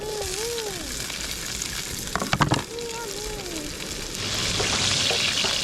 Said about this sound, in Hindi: सबसे पहले मैं ऑयल डाल रहा हूँ, टमाटर डाले